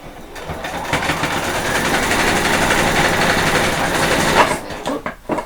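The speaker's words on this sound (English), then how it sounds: "take it to the machine and just run a row of straight stitches where the hole is" A sewing machine runs a row of straight stitches over a hole in the trousers of vet scrubs, humming loudly and steadily for about four seconds at close range before slowing into a few short bursts.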